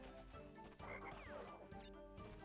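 Frog croaks from a modded Crash Bandicoot 3 on PS1 repeat in a quick rhythmic series over busy game music and effects, fairly faint in the mix.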